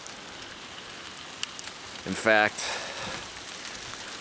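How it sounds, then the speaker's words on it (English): Hail coming down hard in a storm, some stones near golf ball size, heard as a steady patter on surfaces around a parked Pontiac Aztek, with a brief burst of speech partway through. "it's hailing now quite a bit"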